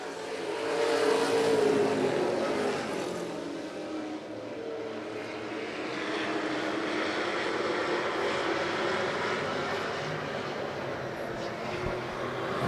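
Pro Stock race cars roar around an oval track in a 40-lap race, their engines a loud, steady, layered drone that swells and fades as the pack passes, with faint commentary underneath.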